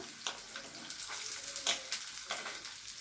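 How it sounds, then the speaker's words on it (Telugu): Onions and green chillies frying in hot tempering oil for a gongura curry, a steady close sizzle broken by a few sharp bursts as the pieces are stirred, with no talking. "పోపు వేగుతుందండి ఉల్లిపాయలు పచ్చిమిర్చి వేస్తున్నాను"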